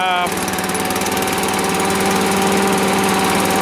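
A Honda-engined leaf vacuum runs loud and close near full throttle, with a steady droning roar and dense mechanical rattle that does not break for the whole stretch.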